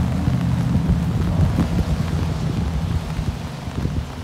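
Strong wind gusts roar steadily outdoors, a low, buffeting rumble that blows an umbrella away, loud and continuous throughout with no talk.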